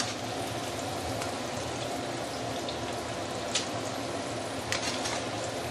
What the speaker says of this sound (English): I'm going to do double fry to make it even crispier.